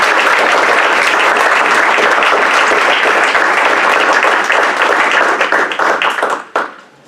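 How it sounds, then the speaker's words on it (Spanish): A church congregation applauds loudly and steadily, dense clapping from many hands close by, then fading out quickly near the end. "Se le va a dar ese aplauso, dáselo a Dios."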